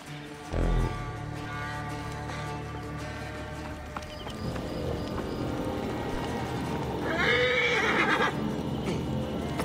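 A horse whinnies loudly over a constant rumbling soundscape in Assassin's Creed Origins, with hoofbeats clopping throughout and a bright, rising neigh near the end.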